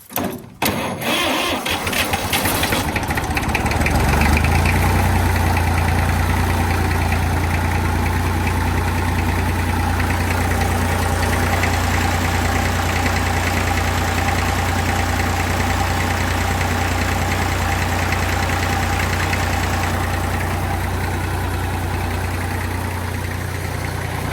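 A tractor engine cranks briefly and catches at once, then settles into a loud, steady idle heard up close for the rest of the time, with a constant low throb and no talking.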